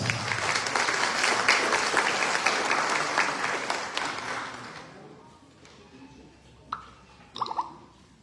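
An audience claps at an academic year opening ceremony in Chilca, a dense round of applause that thins after about five seconds into quiet room noise with a few isolated knocks.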